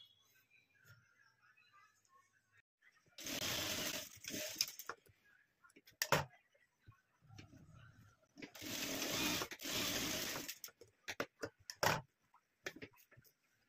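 A sewing machine stitches tucks on the back of a blouse in two bursts of quick, steady whirring clatter several seconds long, separated by quiet pauses with faint handling clicks and brief low speech.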